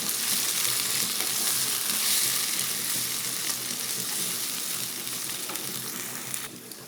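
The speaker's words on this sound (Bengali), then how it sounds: "পেঁয়াজের সঙ্গে মশলাগুলো একটু ভেজে নেব।" Spices sizzle in hot oil with onion and tomato paste for a spicy fish curry, giving a loud, steady, broadband frying hiss that carries on without a break and eases slightly near the end.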